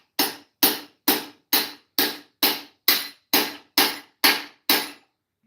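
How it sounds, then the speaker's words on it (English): Eleven sharp, evenly spaced hammer taps ring out on metal, each one bright and quickly decaying, close and clear with no voices. "Give it a tappy tap."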